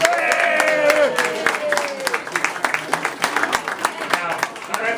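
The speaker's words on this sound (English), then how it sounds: "Let's give them all a round of applause." Audience clapping at a St. Patrick's Day party, a burst of applause that thins into scattered claps, with a voice talking over the crowd.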